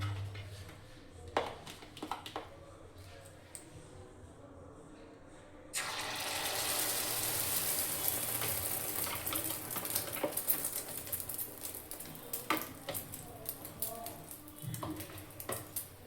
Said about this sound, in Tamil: இப்போ நம்ம அடித்து வச்சுருந்த முட்டை இதில் ஊற்றிக்கலாம்